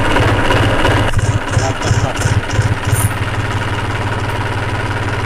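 A tractor engine started with the key and then settling into a steady idle, a loud, close diesel rumble with a rhythmic chug that runs throughout, with someone talking over it.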